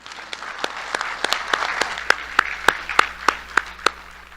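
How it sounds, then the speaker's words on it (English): An audience at a Miss and Jr. Miss Cherokee ambassadors competition claps, first a scattered patter, then a loud run of sharp, evenly spaced claps near the microphone over the softer crowd. "One more round of applause, please, for our royalty."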